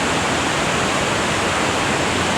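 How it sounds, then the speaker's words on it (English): A glacial river runs beneath the Mendenhall Glacier, a loud, steady, close roar of rushing water with no break, heard alone. "I'm walking on a glacial river underneath the Mendenhall Glacier."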